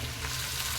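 Chicken gravy with ground tomato sautés in a pan, giving a close, continuous sizzle and fry with faint stirring. There is no talking.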